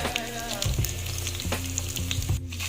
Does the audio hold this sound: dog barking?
no